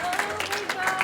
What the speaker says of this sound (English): Round of applause one more time for Zoey